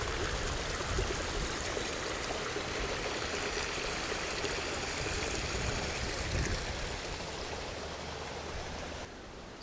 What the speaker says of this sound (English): this is a walking trail, hiking trail, but now it has turned into a creek.